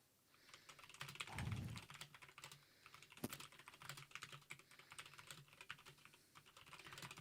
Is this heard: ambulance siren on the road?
no